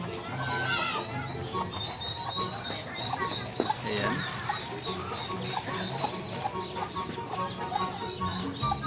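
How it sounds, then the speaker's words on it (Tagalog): Chickens with a brood of chicks roam a small countryside farm, giving steady, fairly close clucking and chirping under a busy ambient backdrop, with brief speech in between. "may mga manok pa dito."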